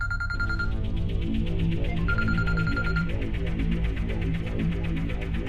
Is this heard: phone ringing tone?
yes